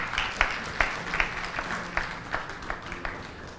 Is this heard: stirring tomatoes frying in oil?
no